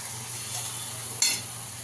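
Mutton goes into a pan of fried spice paste and oil: a steady close sizzle with a sudden brief flare of louder hissing that quickly settles back down.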